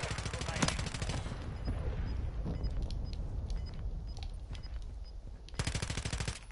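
Call of Duty: Modern Warfare 3 gunfire rattles in rapid automatic bursts, loudest at the start and again near the end, with scattered shots and game noise between.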